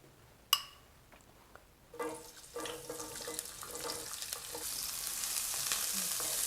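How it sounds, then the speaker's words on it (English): Onions hitting hot oil in a pan, starting with a sharp clack near half a second, then sizzling that builds steadily into a loud, broad hiss with scattered stirring clicks; no voices. "With cooking the onions."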